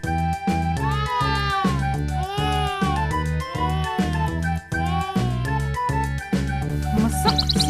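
A cartoon cat from a fairy tale meows again and again in high, bending cries, close and clear over a steady rhythmic beat.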